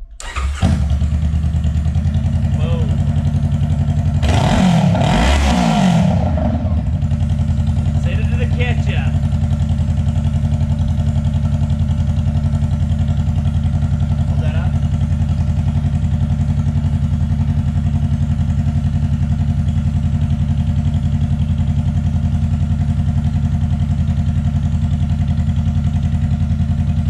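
A Honda CBR street-bike engine fitted in a go-kart cranks, fires with a short loud revving burst, then settles into a steady, loud, close idle that runs continuously with a few faint clanks, and a voice speaks briefly.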